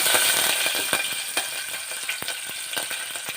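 Curry leaves crackle in hot oil, a bright sizzle with quick sharp pops and spatters scattered irregularly across a few seconds, fairly quiet overall.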